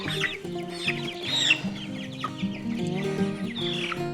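Meat chickens cluck and squawk while being carried from the brooder out to pasture, a near, busy flock chattering continuously with sharper alarmed calls over it and no voices.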